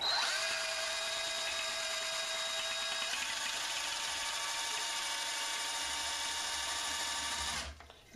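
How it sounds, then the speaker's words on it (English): A power drill degassing Cabernet Sauvignon wine whirs steadily at high speed, its pitch stepping slightly partway through, then winds down and stops near the end. "I'm going to be drilling this for probably about 15-20 minutes"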